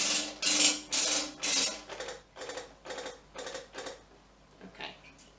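A Waterpik water flosser on massage pulsation mode gives a series of rapid, evenly spaced buzzing bursts, loud and close at first, then weaker and less regular.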